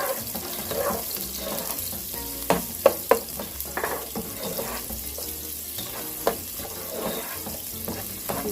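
Onions sizzling as they go into a hot pot, a steady close crackle with a few sharp clanks of a utensil against the pot.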